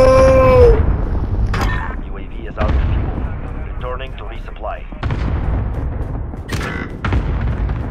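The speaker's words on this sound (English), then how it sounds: "Enemy cruise missile." Cruise missile strike in the Call of Duty: Modern Warfare video game: several deep booming blasts roll through a dense battle mix, with loud low rumbles recurring over the eight seconds while people talk over the action.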